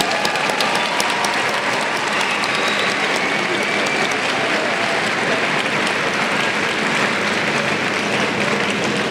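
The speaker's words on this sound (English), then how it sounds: "Let's give them one more round of applause." Sustained, loud applause from a large crowd honoring graduates at a university dental school commencement ceremony, dense clapping continuing steadily without a break.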